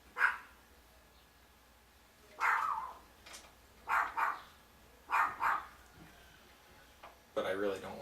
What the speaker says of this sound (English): If there's one thing I could get rid of in this world, it would be that yapping dog.